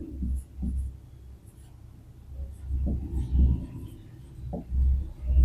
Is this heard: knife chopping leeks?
no